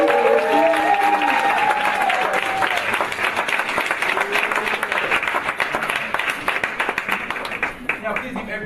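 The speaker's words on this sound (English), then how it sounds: "help me welcome my good friend, Kevin Bond." A crowd at a launch event breaks into loud, sustained applause and clapping to welcome a speaker onstage, with voices and cheers mixed through the steady roar of hands.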